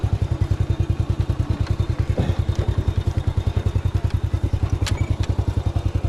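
Motorcycle engine chugging on a rough, steep dirt trail, a loud steady low-pitched thumping rhythm with occasional clatter and knocks from the bike over uneven ground.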